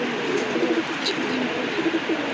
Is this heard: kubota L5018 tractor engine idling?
no